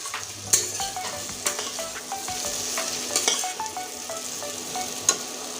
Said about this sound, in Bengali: এবার মশলা ভিতরে পড়ে গিয়েছে আলু আবার আরও সুন্দর করে কষতে থাকবো